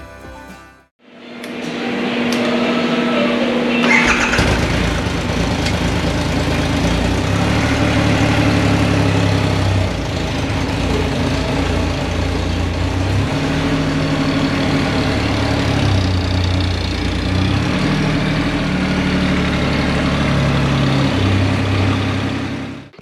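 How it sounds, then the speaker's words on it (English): Custom Triumph Rocket 3 motorcycle with AC Cobra styling, cranked and started for the first time, settling into a loud, close, deep idle with slight revs, running steadily with no talking. "Let's fire it up for the first time."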